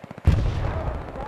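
A single sharp, booming rifle shot from a long-range rifle in a shooting game cracks out close and loud, then rolls away in a long decaying echo; faint background sound comes just before it.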